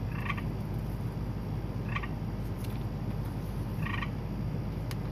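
A spring gray peeper frog gives short, evenly spaced trilling calls about every two seconds, fairly faint over a constant low background hum.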